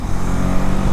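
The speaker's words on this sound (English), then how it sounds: "When ringing the throttle, the pleasure from the exhaust note is somewhat different" A Hero Xtreme 250R motorcycle's engine drones loudly and steadily as the throttle is held, a close, rough, continuous exhaust note with no speech.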